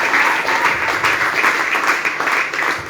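Steady, dense applause from a congregation at a French-language prophetic training session, a loud, continuous wash of many clapping hands close by, with no other sound.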